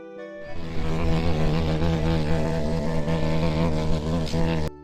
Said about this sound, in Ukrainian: це голос жука.